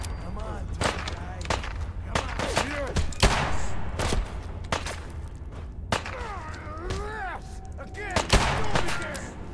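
Gunfire in a Fallout video game, a dense run of sharp, loud shots and thumps in irregular bursts, close and distant, with brief voices shouting between the volleys.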